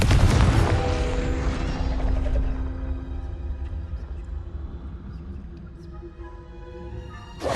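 A Confringo fire spell explodes in Hogwarts Legacy, a loud booming blast that rumbles and fades over several seconds before another burst hits at the end.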